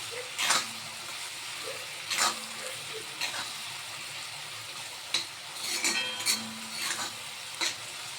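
Vegetables tossed with vinegar and soy sauce in a pan for a vegetable Chinese dish, giving scattered scraping stirs and soft clinks over a faint background sizzle, fairly quiet and without talk.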